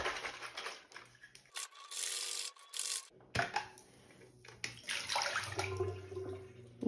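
Water sloshes and rattles inside a plastic dirty-water tank from a Hizero floor cleaner in quick bursts of shaking, close by, with brief pauses between rounds.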